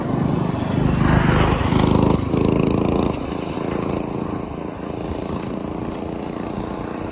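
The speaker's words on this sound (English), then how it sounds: "Here comes the guy on the motor scooter." A buzzy small engine of a motor scooter drones nearby, swelling louder then easing slightly as it passes, with a rough, rattling tone, heard from a moving e-bike.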